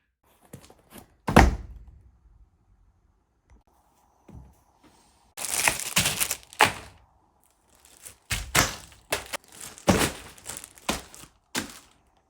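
Unpacking a Nurecover ice tub: scattered thunks, crinkling plastic and tearing packaging in bursts with quiet gaps, close by and without speech.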